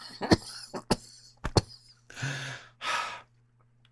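A person coughs and gasps after smoking cannabis on a roof: several sharp bursts, then two longer rough exhales, close and alone.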